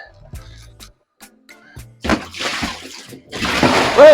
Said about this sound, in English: pull that drain plug.